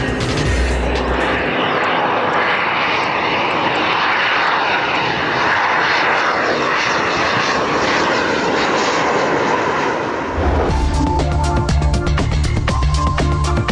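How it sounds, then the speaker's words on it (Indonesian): A loud, steady Gulfstream business jet engine roar fills the scene, a broad continuous rush that holds nearly unchanged before shifting tone near the end. "Gulfstream adalah pesawat jet bisnis yang dihasilkan oleh Gulfstream Aerospace."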